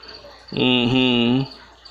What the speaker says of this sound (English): I can see there's a cricket right there.